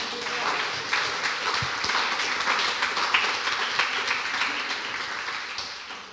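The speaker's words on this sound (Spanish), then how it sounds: "Vamos, darle un aplauso al Señor." Congregation applause during a church sermon, a steady wash of clapping from many people at moderate loudness, continuing evenly with occasional sharper claps.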